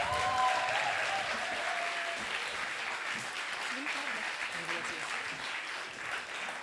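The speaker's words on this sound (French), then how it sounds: "on peut les applaudir encore une fois" An audience gives performers a sustained round of applause, dense and steady from start to finish. A few voices can be heard faintly within it.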